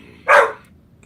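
A single sharp dog bark, close and loud, over a faint low background hum.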